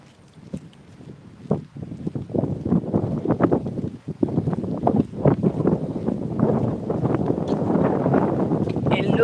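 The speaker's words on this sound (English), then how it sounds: "Now it's windy. You feel the wind." Strong wind gusting and buffeting close by at Hollywood Beach, a rough continuous roar that builds and stays loud, with faint voices underneath.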